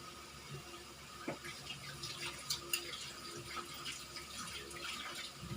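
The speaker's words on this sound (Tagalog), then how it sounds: "Hugas muna ako ng kamay" Tap water runs steadily into a sink while hands are washed, with small splashes and drips breaking the soft continuous stream, close and fairly quiet.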